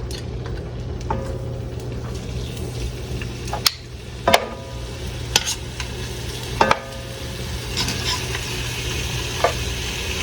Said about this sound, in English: It cooled off a little bit, but there's a little sizzle.